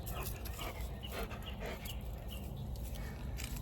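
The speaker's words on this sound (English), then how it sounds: "Hey, here's the hound." A hound dog panting close by, with quick, steady breaths and faint whimpering sounds in a quiet outdoor setting.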